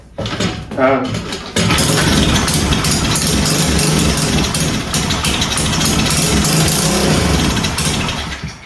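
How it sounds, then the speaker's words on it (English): A pit bike engine fires up after a few short cranks, then settles into a loud, rough, uneven idle that runs steadily close to the microphone. "So yeah, it's struggling, but it does start, which is a good part."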